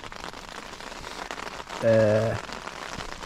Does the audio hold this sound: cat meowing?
no